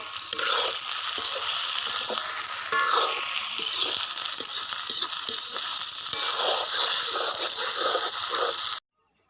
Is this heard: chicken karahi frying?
yes